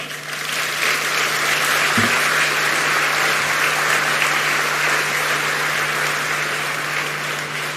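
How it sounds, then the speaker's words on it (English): Sustained applause from a large crowd after a speech at the Africa Climate Summit at KICC in Nairobi, steady and full throughout with no voices over it. "One more round of applause to all the speakers who have spoken so well"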